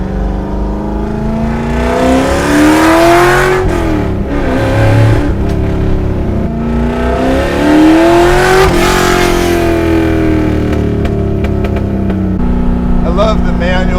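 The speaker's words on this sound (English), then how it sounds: "God, what an incredible sound this thing makes. God. It's like a trumpet, man. Oh, it just screams." A Ford Shelby GT350 engine revs hard through rising, falling sweeps, loud and close, with a brassy, screaming tone and shifts between pulls. Someone talks over it at times.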